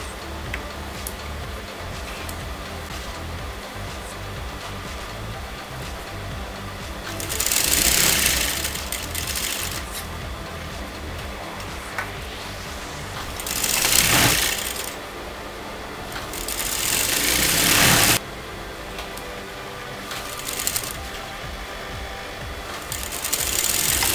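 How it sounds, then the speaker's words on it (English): A sewing machine stitches puff sleeve fabric in three loud whirring runs, separated by quieter stretches of light ticking and handling noise. "you're going to sew that together"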